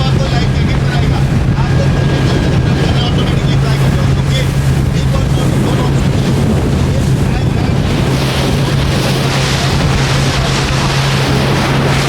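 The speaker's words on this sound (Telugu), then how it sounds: "సో చాలా ఎక్కువ బ్రీత్ వస్తుందండి గాలి ఎక్కువగా ఉంది" Strong wind roars steadily across the microphone during a speedboat ride at sea off Coral Island, Pattaya, with a constant low engine drone and water rush beneath the buffeting.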